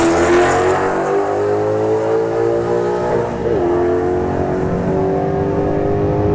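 Drag race launch between a Subaru WRX and an S197 Mustang at Bradenton Motorsports Park: loud, sustained engine roar with rising revving tones, a brief gear-shift dip midway, and harmonics climbing steadily as the cars accelerate away.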